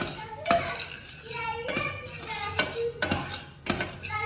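A utensil mixes burger ingredients with a tablespoon of balsamic vinegar in a bowl, making a series of sharp clinks and scraping knocks about once a second, up close.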